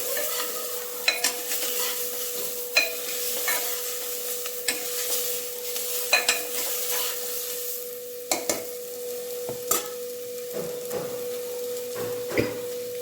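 Drumstick pieces fry in oil for a South Indian drumstick sambar, giving a steady close sizzle broken by repeated sharp scrapes and clinks of a spoon stirring in the pan, with no talking.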